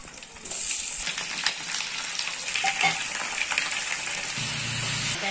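Raw chicken pieces hitting a hot pan of reddish-browned onions for a dhaba-style chicken curry, setting off a steady loud frying sizzle with some stirring scrapes, no talking.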